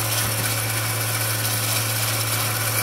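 An MX-210V 8x16 metal lathe hums with a steady low motor drone while taking a half-millimeter cut, with a continuous gritty cutting noise layered on top throughout.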